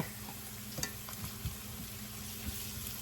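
Garlic and onions fry in a pan with a steady, soft sizzle and occasional light stirring taps, heard close with no talking.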